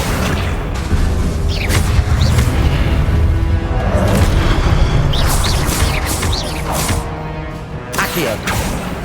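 Confringo blasting-spell explosions in the video game Hogwarts Legacy, a steady barrage of booming, crashing bursts over a rumbling battle din, loud and continuous with sharp impacts recurring throughout.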